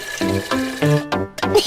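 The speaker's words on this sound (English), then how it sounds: "Yes, let's fill it with water." Water is poured to fill a toy dinosaur teapot, several short close glugging bursts of liquid with a rising pitch as the vessel fills.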